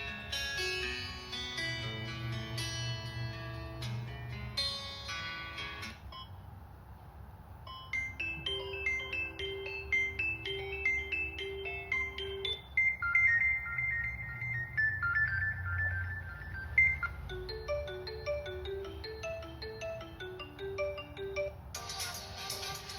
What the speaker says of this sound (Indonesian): Kita coba untuk memutar ringtone dengan volume